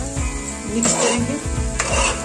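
A spoon scraping and stirring a thick carrot halwa mixture with ghee in a pan, repeated soft strokes over a faint sizzle, with a couple of sharper clinks against the pan.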